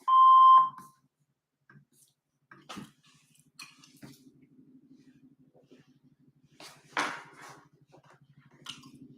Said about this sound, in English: Please leave your name and phone number after the beep.